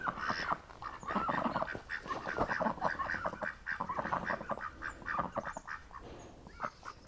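A flock of ducks quacking nonstop, many overlapping calls close by, loud and busy throughout with no pauses.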